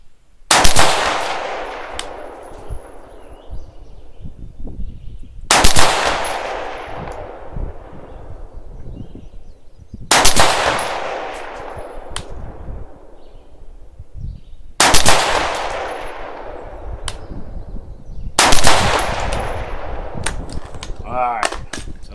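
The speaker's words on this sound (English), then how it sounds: "we're gonna be shooting at the top target, 200 yards" Rifle shots fired at a target 200 yards away, five loud sharp cracks spaced about four to five seconds apart, each with a long fading echo, no talking.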